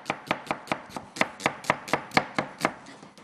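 A knife chops an onion on a board, about a dozen crisp, evenly spaced strokes in a quick, steady rhythm. The chopping is close and heard on its own, with no talking.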